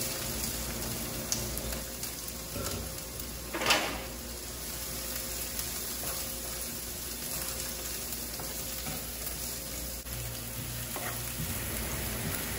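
Rice fries in a non-stick pan, a steady soft sizzle with occasional stirring scrapes and one brief louder clatter.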